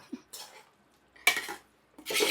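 A spoon scrapes and clatters against a pan while chicken masala is stirred, a few separate bursts of metallic scraping with quiet gaps between them, close and fairly soft.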